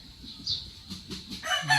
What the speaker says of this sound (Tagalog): Ay, may manok po sa kabila.